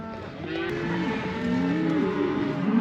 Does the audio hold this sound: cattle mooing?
yes